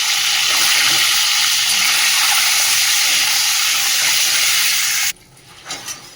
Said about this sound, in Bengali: ডিমটা তো ভেজে তুলে নিয়েছি